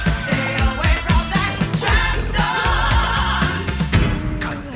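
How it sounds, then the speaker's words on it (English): The theme tune of the 1980s UK claymation series The Trap Door plays loud and upfront: a busy, punchy arrangement with a driving bass line and a rhythmic beat, without any voices. "the theme from Trapdoor, the 80s"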